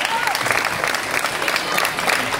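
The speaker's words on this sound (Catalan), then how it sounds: "Un fort aplaudiment." Audience at a casting event for La Cucafera in Tarragona gives the jury a loud, steady round of applause, thick continuous clapping throughout with faint voices mixed in.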